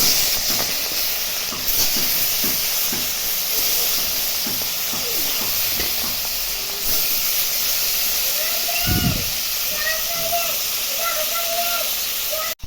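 Hilsa fish fry in hot oil with a loud, steady sizzling hiss throughout, and faint muffled sounds rise underneath.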